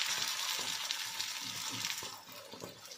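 A veggie tikki patty fries in hot oil, giving a close, steady crackling sizzle with small pops that carries on without pause.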